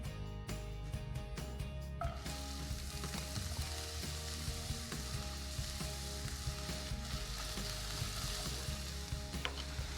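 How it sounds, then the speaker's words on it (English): Finely diced white onion frying in olive oil in a skillet over medium heat, a dense continuous sizzle that holds steady throughout, close by, with a few faint clinks early on and no voices. "Now I'm gonna add in one finely diced white onion."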